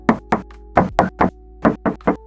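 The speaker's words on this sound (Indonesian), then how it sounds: "Kita tes ketok lagi untuk bagian bodi sampingnya." Knuckles rap on the side body panel of a 2020 Toyota Avanza G automatic: about nine sharp, close knocks in uneven pairs and singles, heard alone over a faint steady hum.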